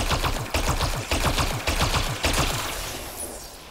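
Bursts of automatic gunfire from a weapon in the Mass Effect Andromeda video game, roughly a dozen rapid loud shots in uneven clusters that thin into a fading tail at the end, with no talking.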